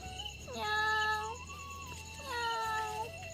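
A cat meows twice, clear and fairly close, each call a drawn-out rising then falling mew against a quiet background.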